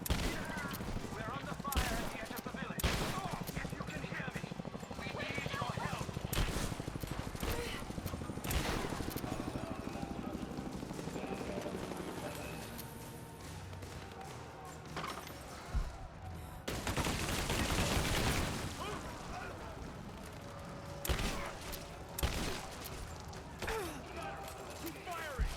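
Shotgun blasts ring out in Rise of the Tomb Raider amid a busy stretch of gunfire, with repeated sharp reports spread across a noisy combat scene and a voice talking over parts of it.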